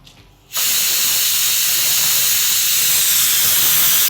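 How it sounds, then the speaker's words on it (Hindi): A pressure cooker whistles on a kitchen gas stove while misal is being cooked, a loud sustained hissing steam whistle bursting in sharply after a quiet moment and continuing unbroken. "एक विसल आ गई, गैस बंद"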